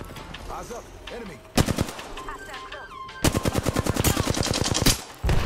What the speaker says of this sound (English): There's so much shots on this bridge in the air.